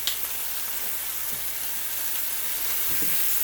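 Minced garlic and vegetables sauteing in a skillet, a close, loud, unbroken hissing sizzle with faint stirring touches underneath.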